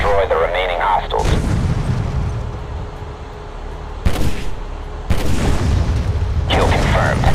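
Booming gunfire and heavy explosions from the shooter game Modern Combat 3, loud and close, arriving in bursts with sharp cracks at a few points and a voice speaking over the battle.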